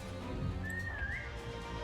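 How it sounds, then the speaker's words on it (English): A single thin whistle in the video game Limbus Company rises, wavers and lifts again over about half a second, clear above a steady low game-music bed. "One last whistle for the dead guy."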